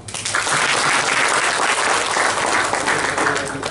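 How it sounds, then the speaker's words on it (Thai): Loud, dense applause from a large audience at a workplace seminar, steady sustained clapping from start to finish with no talk over it. "ท่านใดว่าจริงปรบมือดังๆ ครับ"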